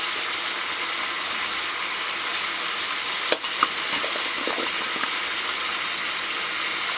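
Wild Indian gooseberries frying in oil for pickle give off a steady, even sizzle throughout, with a few brief stirring clicks and pops partway through.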